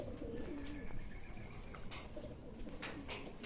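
Pigeon sounds near a home loft as a racing pigeon returns from a training toss: soft cooing and bird calls over steady outdoor background noise, with a few brief brighter chirps.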